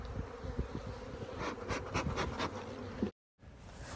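Honey bees drone steadily around an open hive as the brood box is worked during a split, a close, continuous buzzing with a few sharper passes near the listener before a brief cut to silence.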